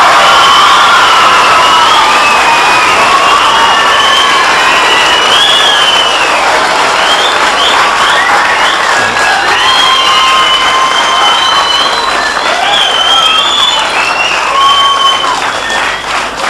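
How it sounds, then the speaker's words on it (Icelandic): Sustained audience applause with cheering at a 1987 Icelandic quiz-show contest between teams from Snæfellsnes and Borgarfjörður, loud and continuous throughout, with lively crowd voices and no speech over it. "það er sama klappið sem fyrr."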